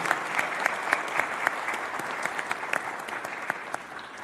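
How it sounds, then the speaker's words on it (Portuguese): Audience applause at a solemn session in a Brazilian council chamber, steady dense clapping from a crowd indoors, even and sustained throughout without speech. "Então eu queria pedir a vocês uma salva de palmas para a nossa querida Leopoldina"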